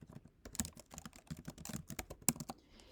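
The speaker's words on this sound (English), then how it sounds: "type in the title of the book I am reading" Keys clatter on a computer keyboard as a book title is typed in, a steady run of close, crisp clicks and taps lasting the whole stretch with no talking.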